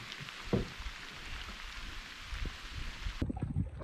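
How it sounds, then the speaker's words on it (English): Steady rain patters on water and gear during a canoe trip on a lake in Temagami, a dense close hiss with a few louder drops and knocks throughout. "Third portion, raining quite a bit."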